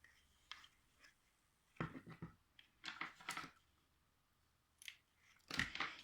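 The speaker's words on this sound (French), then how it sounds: "Donc sur celui-là, on peut couper le ruban." Scissors snipping through ribbon during paper crafting for a mini album, a few quiet separate cuts spread across the moment with small handling noises in between, close and soft.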